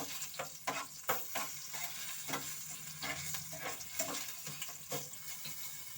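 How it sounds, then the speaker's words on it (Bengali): Grated coconut with dried red chili frying in hot oil, a steady close sizzle broken by repeated scrapes and knocks of a spatula stirring the pan throughout. "নারকেলটা প্রায় ভাজা ভাজা হয়ে গেছে। একটা কাঁচা লঙ্কাও দেব, একটা শুকনো লঙ্কা দিচ্ছি"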